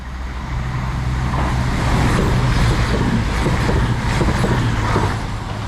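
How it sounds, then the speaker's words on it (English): A cross-country passenger train bound for Manchester Piccadilly passes steadily through a station on the Southampton to Lymington line, a loud, continuous rumble with rail noise that swells in the middle and eases off at the end. "Right, passing through now. We've got a cross-country service to Manchester Piccadilly."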